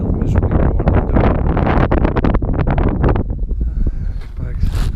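Wind blows strongly outdoors on a farm, buffeting the microphone with a continuous rough rumble under a person talking throughout.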